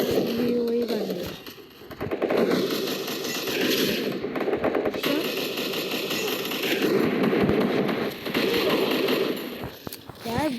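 Bursts of automatic gunfire in a shooting video game, repeated volleys across the clip with short pauses, mixed with game sounds while people talk over them.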